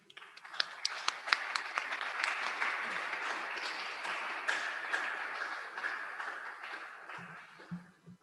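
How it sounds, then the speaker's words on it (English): Audience applause after a memorial lecture, a sustained wash of many hands clapping at moderate distance, steady for about seven seconds before thinning out. "Let us give an applause to our speaker for a very wonderful talk."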